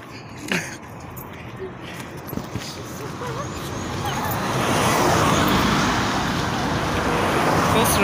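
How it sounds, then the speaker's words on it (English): Steady roadway traffic swells from a faint background hiss into a louder continuous rush of passing vehicles on a busy road, heard from nearby outdoors. "There's so much traffic in this road."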